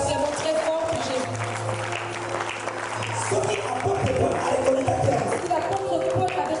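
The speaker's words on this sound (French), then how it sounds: "Nous acclamons très fort pour Jésus" A congregation at a church service in Brussels claps and cheers loudly for Jesus, with a dense wash of applause and crowd voices and someone speaking over it.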